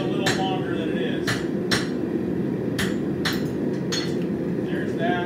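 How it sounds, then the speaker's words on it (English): Repeated hammer blows ring out on a hot cut as a blacksmith works forged steel for a hair pin, about eight sharp metallic strikes spaced irregularly over a steady roaring background, probably a forge fire. "So here we go with the hot cut."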